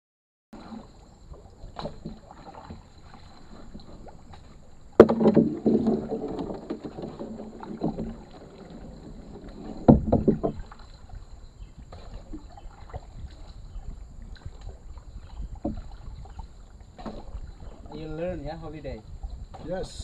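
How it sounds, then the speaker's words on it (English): A small boat is rowed back along the shore at Carita Beach in West Java, with soft water sloshing and oar strokes under wind noise, punctuated by a few sharp knocks and distant voices. "I'm a little tired and I let Cheng row back by himself"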